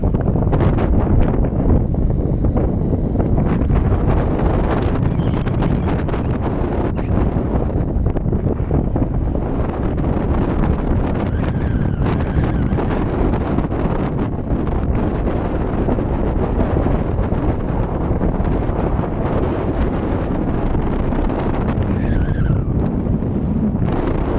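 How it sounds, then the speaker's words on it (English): A vehicle drives a rough dirt road across a placer mining claim, its engine rumble and tire noise loud and continuous throughout, mixed with buffeting wind noise and no talking. "I will drive to the rough end of the claim"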